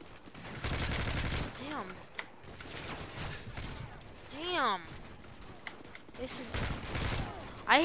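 An AK-47 in Modern Warfare 3 multiplayer fires in rapid bursts and fusillades amid clattering game effects, with players talking over the shooting throughout.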